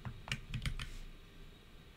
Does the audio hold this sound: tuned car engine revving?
no